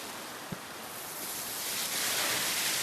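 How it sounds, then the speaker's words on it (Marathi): Steady rushing stream water roars without a break and grows louder toward the end, with one brief knock early on, near a waterfall and lake in Karjat. "पाण्याला फ्लो तर आहे, भरपूर फ्लो."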